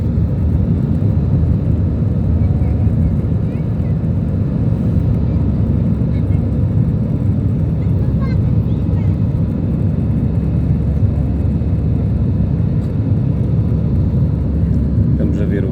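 Airliner climbing out after takeoff from runway 17 at Porto airport, a loud, steady cabin-side engine roar with deep rumble that holds constant throughout, with no talk over it.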